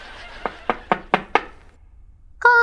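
Five sharp, evenly spaced knocks on a door ring out close by, followed by a brief pause and then a voice.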